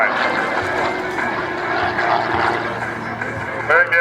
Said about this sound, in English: There she is in knife-edge flight, no lift to the airplane being contributed by the wing that is flying